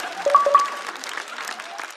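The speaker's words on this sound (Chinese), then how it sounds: "来，我们要再次把掌声送给一直在勇于尝试分享简单快乐的李文" Audience applause at a stand-up comedy show, a moderate wash of clapping that swells early and then holds steady, with a few brief tonal sounds at the start.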